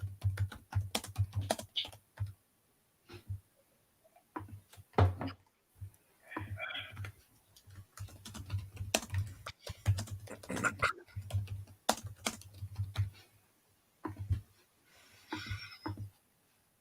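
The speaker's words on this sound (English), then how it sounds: "What are you typing?" Typing on a computer keyboard during a football game broadcast produces close, irregular bursts of key clicks and clacks, some quick runs and some lone taps, separated by short pauses, fairly faint throughout.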